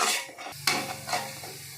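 Tomatoes soften in a pan for mutton biryani with a short close sizzle, broken by a couple of quick spatula scrapes and a light metallic knock against the pan.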